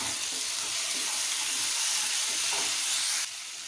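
Peas and ginger-garlic paste sizzling in a hot pan for an aloo gobi matar sabji, a dense, steady frying hiss that carries on loudly before easing off slightly near the end.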